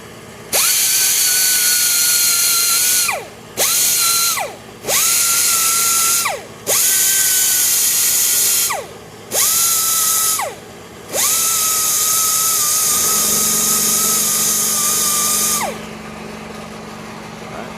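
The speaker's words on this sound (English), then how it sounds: "I'm going to go ahead and start grinding on this." Power tool grinding curb rash on a Kia K4 wheel, running in loud, steady bursts of about two seconds with brief pauses between them, then a longer continuous run that stops near the end.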